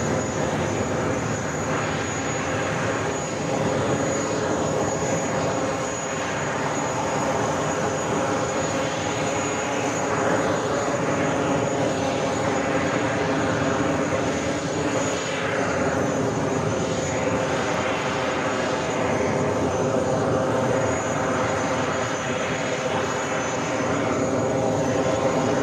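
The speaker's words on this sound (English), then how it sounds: "this A380 Super wearing the updated livery for Emirates" Jet engines of an Emirates Airbus A380 in updated livery at New York JFK airport, a steady loud broadband roar with a thin high whine, sustained for the whole stretch.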